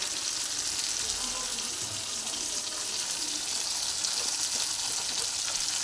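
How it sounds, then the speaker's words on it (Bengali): Fish frying in hot oil in a home kitchen pan gives a steady, even sizzling hiss that holds at a constant level throughout, with no voices. "একদিকে মাছ ভাজা বসিয়েছি"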